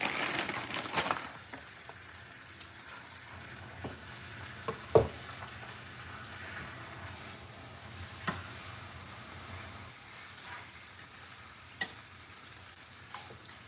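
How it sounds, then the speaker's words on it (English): A roast cooks in a pot on a home kitchen stove, a soft continuous sizzle with occasional light clinks and knocks of utensils against the pan, quiet and close with no talking. "I got the roast on the stove"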